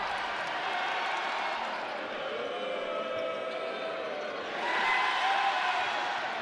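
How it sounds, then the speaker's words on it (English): Basketball fans at a college game between San Diego and Utah State cheer a player, a steady roar of crowd noise in the arena that rises toward the end. "the fans, they're picking their player and letting them hear it."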